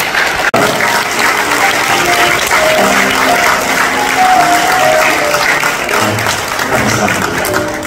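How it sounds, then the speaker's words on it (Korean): Wedding guests in a banquet hall break into loud, sustained clapping that carries through the whole stretch, with soft background music and some crowd murmur mixed in. "박수 부탁드리겠습니다."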